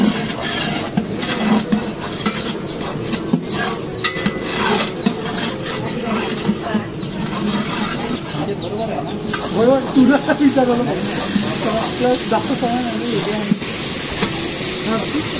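Curry leaves frying in hot oil give a loud, close hissing sizzle with stirring scrapes, running steadily while people talk over it.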